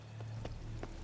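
Horse hooves clop a few times in The Witcher 3, three soft, evenly spaced steps of a slow walk over a low steady hum, with no talk.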